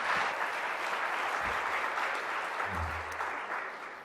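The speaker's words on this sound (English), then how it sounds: "give Dr. Phil, a warm round of applause, please." An audience at a hacking conference talk applauds warmly, a dense, steady clapping that continues for several seconds and fades slightly at the end.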